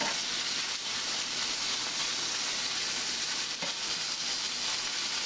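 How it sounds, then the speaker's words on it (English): Continuous bright sizzling of bacon frying in a skillet, a steady crackling hiss with no talking. "So I'm gonna take the bacon and I'm gonna start frying it."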